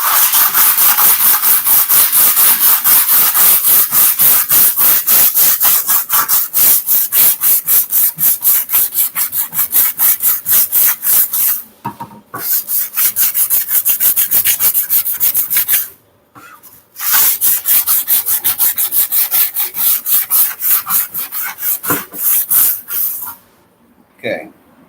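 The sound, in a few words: sanding a wooden shield with grit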